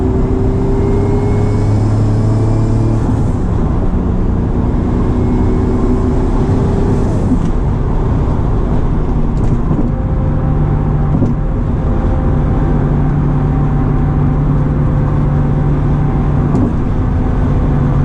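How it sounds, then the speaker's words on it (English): A Science of Speed twin-turbo Honda NSX engine drones loudly and continuously from inside the car while driving. The pitch shifts as it downshifts and pulls, with no voices over it. "Downshifting for a little pull."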